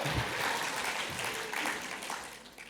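Scattered audience clapping at a charity sector conversation event, a modest burst filling the room briefly and staying fairly even, no talk over it.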